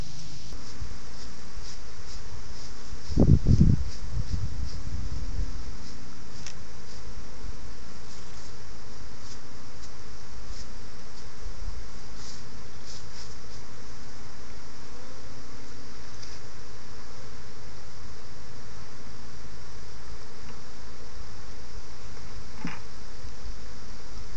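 Honeybees buzzing around a hive during a honey harvest: a faint, steady hum through the whole clip, with a brief louder bump and handling noise near the start, no talk.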